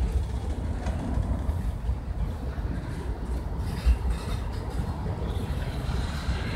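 A train passes nearby, a continuous low rumble of railcars with faint rhythmic rolling and a brief thump partway through, steady and moderately loud with no talking.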